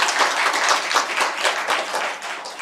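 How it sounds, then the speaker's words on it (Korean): A church congregation at a Sunday service claps together in a steady burst of applause, loud and close, with no talking over it. "괜찮으면 박수를 한번 칩시다."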